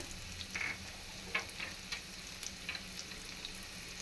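Tomato frying in oil with ginger and garlic paste for a pabda fish curry, a steady soft sizzle with a few louder spatters and stirring scrapes throughout.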